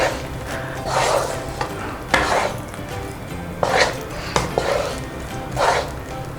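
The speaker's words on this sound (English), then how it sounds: "Keep stirring and frying until you can see" Spoon scraping and stirring a thick yam paste frying in a pan, with soft sizzling underneath and a few louder clanks against the metal.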